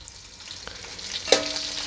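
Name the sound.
curry leaves sizzling in hot oil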